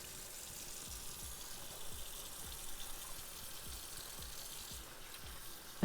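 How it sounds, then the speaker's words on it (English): Water runs steadily from a tap while hands are washed in a kitchen sink, a continuous hiss with soft, irregular splashes and no voices. "I'm just gonna wash my hands up."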